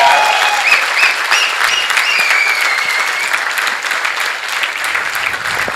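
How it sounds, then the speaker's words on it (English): Sustained loud applause from a crowd greeting the actors of a PGDM student theatre production at a college fest, dense clapping steady throughout. "A huge round of applause"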